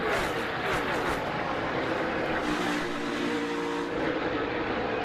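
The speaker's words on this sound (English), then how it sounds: "this is just aggressive racing in the end of this race." NASCAR stock cars race hard at the end of a 2020 race, a dense, loud engine roar with cars sweeping past, heard under excited commentary.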